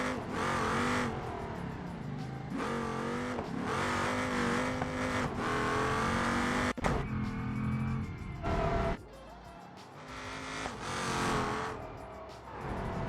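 An LS-swapped Tesla on drag slicks in BeamNG Drive revs hard and loud for many seconds, its engine note rising and falling through repeated pulls, with a brief sharp hit midway and a quieter stretch near the end.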